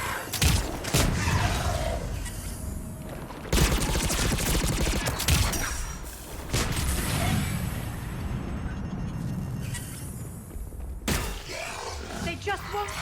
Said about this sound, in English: Even the explosions sound cool.